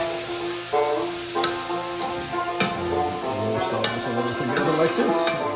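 Spoon stirring tomato paste into a sizzling pan with cayenne, steady frying hiss under scraping strokes and occasional light clicks, close and fairly loud.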